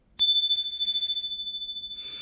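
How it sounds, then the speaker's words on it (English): A small hand bell struck once before a prayer, giving a clear bright ding that rings on with a long, slowly fading tone in a quiet room. "So let's get our little bell here."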